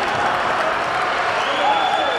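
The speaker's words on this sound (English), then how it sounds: "the crowd on their feet here at the MAC to celebrate another Pride win on home court" A home basketball crowd on its feet after a double-overtime Hofstra Pride win, a dense, loud wash of cheering and applause filling the arena continuously with a faint whistle-like tone rising above it.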